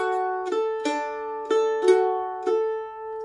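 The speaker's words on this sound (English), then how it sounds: "In a hornpipe feel, it sounds a bit more like this." Mandolin picking a phrase in a hornpipe feel, the plucked notes falling in an uneven long-short swing, ringing bright and close with no talk over them.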